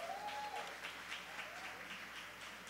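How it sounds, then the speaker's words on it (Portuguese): A church audience at a Christmas cantata applauds the live band musicians, a steady wash of many hands clapping at moderate distance, with a faint sustained tone drifting over it. "Uma salva de palmas para os nossos músicos."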